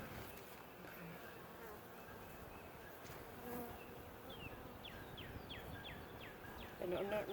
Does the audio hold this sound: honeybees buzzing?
yes